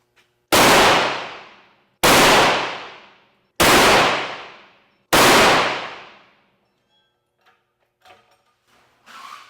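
Four loud, sharp rifle shots from a Trapdoor .45-70 with an 18-inch barrel, firing 300-grain jacketed hollow point loads during factory pressure testing, evenly spaced about 1.5 seconds apart, each with a decaying ring, followed by quiet handling noises.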